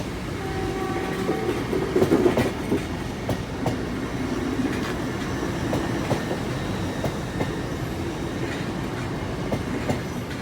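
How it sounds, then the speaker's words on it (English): A freight train rumbles past at a distance by a level crossing, with a continuous rolling clatter of wheels and a brief horn tone early on. "I see our freight train in the very distance."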